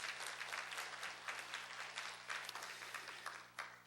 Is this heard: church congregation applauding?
yes